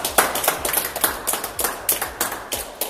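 A small group claps for a finished haircut at a barber battle, a brief uneven patter of hand claps with sharp individual slaps, fairly close and without talk.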